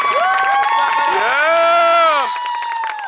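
Spectators at a youth water polo game cheer and whoop loudly, with high sustained shouts and excited voices filling the space over scattered clapping for about three seconds.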